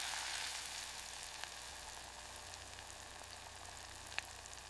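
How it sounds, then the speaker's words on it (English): Tomato sizzles in a hot clay pot, a steady faint hiss of frying that runs throughout with one or two small pops, quiet and with no voices. "That first sizzle is pure promise."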